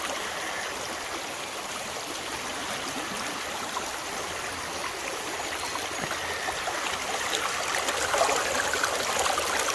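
Stream water running through a gold sluice, a steady broadband rush and trickle that continues throughout, close and fairly loud, swelling slightly toward the end with no voices.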